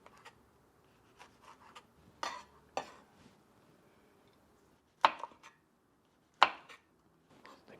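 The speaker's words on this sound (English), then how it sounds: "This is how I remove the seeds from the chili. Just tap it, squeeze it and tap it." Red and green chilies tapped against a kitchen surface and squeezed to clear their seeds while preparing nyonya belanda sauce for Asian-style fried egg: a few sharp close knocks separated by quiet gaps, with soft handling noises between.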